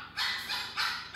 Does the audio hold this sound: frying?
no